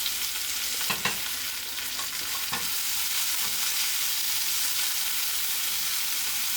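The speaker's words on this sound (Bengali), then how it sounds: "পেঁয়াজটা যখন হালকা একটু ভাজা ভাজা হয়ে যাবে এর মধ্যে আমি দিয়ে দেবো রসুন বাটা" Sliced onions fry in hot oil in a pan for a fish dopiaza, making a loud, continuous bright sizzle, with a few stirring scrapes early on and no speech.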